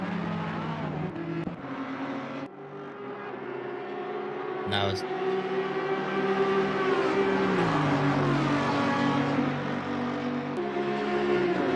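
Audi and Honda race cars lap Circuit de Catalunya in an AM-class sim race, engines droning and shifting pitch steadily on track while a commentator talks over them.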